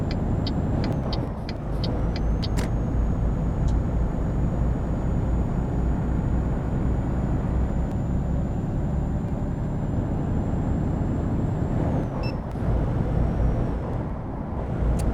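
A truck rumbles along steadily in a truck simulator game, with a continuous low engine drone, a faint high whine, and a few clicks and brief transients, with no talking.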